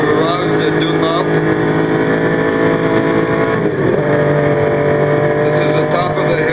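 Ford GT 1965 racing car engine on a Le Mans lap, a loud, steady high-revving drone with strong harmonic tones held in fourth gear near the top of a hill, with a brief shift in pitch partway through.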